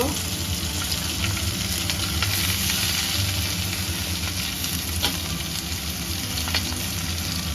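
Steady, close sizzling of spinach frying in a hot wok after ginger, with occasional stirring scrapes over a constant crackling hiss.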